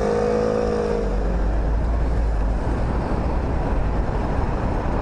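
Super Soco TC Max and TC electric motorcycles accelerating hard in mode 3, a steady loud rush of wind and road noise with a faint rising whine early on, no voices.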